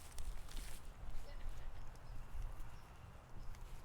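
A horse's hooves clip-clop on the ground at a trot, a steady rhythmic series of soft thuds under low background rumble.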